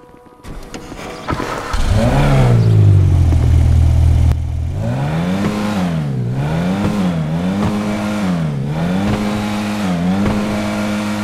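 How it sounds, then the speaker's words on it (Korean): A 1969 car in GTA5 cranks and fires into a loud idle, then its engine revs repeatedly in rising and falling surges, close and steady with no talking. "이 자동차의 첫 시동 소리를 제가 한번 들어볼게요."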